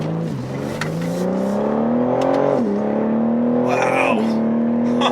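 A 2021 BMW M3 launches hard from a standstill on cold tires, its engine note climbing steadily through the gears with brief dips at each shift, heard from inside the cabin with a continuous loud drone.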